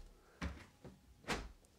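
Heavy door of a well-sealed soundproof garden studio being opened and closed, several dull thuds and soft knocks at close range in a quiet room.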